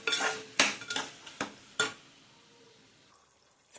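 A spoon stirs mixed vegetable curry with yogurt in a pan, scraping and clinking in about six sharp strokes before fading to a quiet sizzle.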